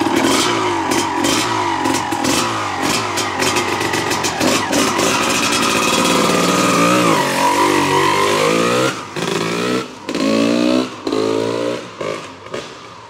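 A 1996 Honda CR250 two-stroke motocross bike revs loudly up close, crackling through rapid throttle blips before settling into a rising and falling engine note with sharp cuts and stabs near the end.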